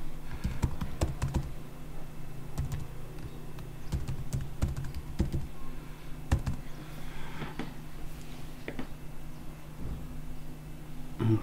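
A password is typed on a computer keyboard, giving a close run of clacking keystrokes in irregular bursts with short pauses over a low steady room hum.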